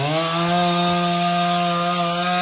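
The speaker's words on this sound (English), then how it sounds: "Teaching the boys how to use the chainsaw." A chainsaw cutting wood runs loud and steady at high revs, its harsh buzzing tone holding constant throughout, close up.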